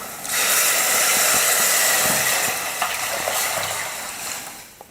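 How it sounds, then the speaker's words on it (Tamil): Tomato water pours into a hot pan of rasam, setting off a loud, continuous sizzling hiss that swells quickly, holds steady, then slowly fades, with a few faint clinks and no speech. "இப்போ தக்காளி தண்ணி ஊற்றிக்கலாம்."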